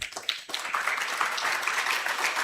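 Audience applause at a leadership summit, a dense steady patter of many hands clapping that fills the room at moderate volume, continuing without pause.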